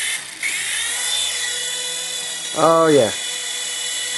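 A Heng Long Aurora micro RC helicopter with LEDs hums with a steady high rotor whir close by, with a brief swooping tone midway as a person speaks a couple of words.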